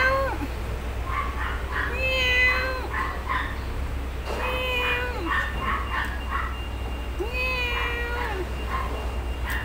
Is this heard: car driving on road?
no